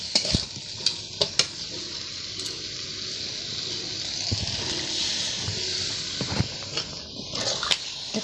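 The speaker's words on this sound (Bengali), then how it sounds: "কষানো হয়ে গেছে, এবার আমি জল দিয়ে দেবো।" Water poured into a pan of small potatoes and peas frying in a vegetarian curry, giving a steady hiss and gush close by, with a few clinks of a spoon against the pan.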